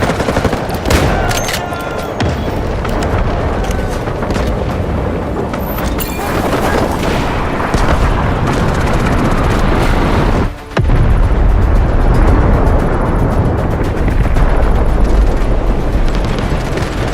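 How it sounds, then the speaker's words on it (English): Artillery barrage in the video game Delta Force, a dense, continuous roar of heavy explosions and rumbling blasts lasting many seconds, loud and close, with a brief dropout partway through. "Strategic beacon deployed. Roger that. Artillery barrage incoming."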